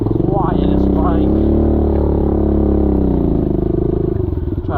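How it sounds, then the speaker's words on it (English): A Stark VARG MX 1.2 electric dirt bike rides past close by, its loud motor whine rising and falling in smooth sweeps over rough off-road clatter. "I don't really have the quietest bike"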